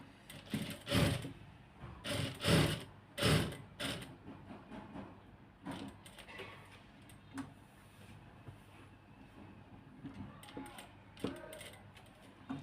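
A sewing machine stitches a kameez neckline in several rapid mechanical bursts early on, then quieter intermittent clicking and handling of the fabric.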